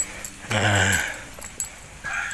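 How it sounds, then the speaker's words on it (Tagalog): A dog outside a house along a village path in the Philippines gives a short, fairly close burst of barking and yipping, with quieter whimpering and light rustle around it. "Oh, may aso."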